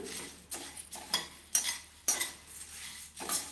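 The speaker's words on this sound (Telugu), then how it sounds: "కాస్త కలర్ చేంజ్ అయ్యేంత వరకు వేపుకోవాలి లైట్గా మనం బాగా క్రిస్పీగా అయ్యేంత వరకు వేపుకోవాలి" Puffed rice stirred in a pan, dry rustling scrapes of a spoon against metal in repeated strokes roughly every half second, with faint crisp crackle between.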